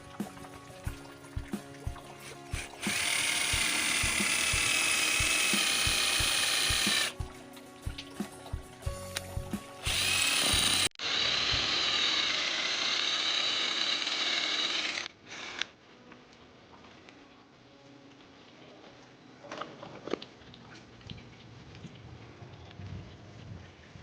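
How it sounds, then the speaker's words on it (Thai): A cordless non-hammer drill with a masonry bit bores into concrete, giving loud, sustained grinding whine in several long bursts with short pauses, then a quieter, steadier run with a few clicks. "สว่านตัวนี้ก็เจาะปูนได้นะครับ"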